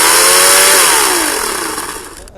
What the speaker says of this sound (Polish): Należy odbezpieczyć i w tym momencie piła jest gotowa do pracy.